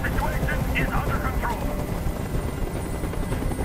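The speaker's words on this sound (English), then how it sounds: "I can't stand that noise anymore. Tell that helicopter to get out of here." A helicopter hovering overhead in the video game Detroit: Become Human, a loud continuous rotor thrum filling the scene, with voices speaking over it.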